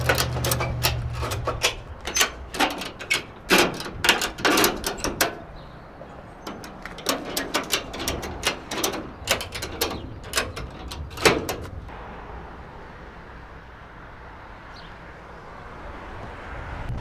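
Ratchet straps being cranked tight to secure a bagged Mercedes W108 on a trailer, with bursts of rapid clicking ratchet strokes in several runs, close and loud, then quieter outdoor ambience, no talking.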